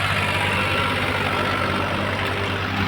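A Ford 3600 tractor runs in a field, its diesel engine giving a steady low rumble with a constant throb and no change in speed, close and fairly loud for a few seconds with no voice.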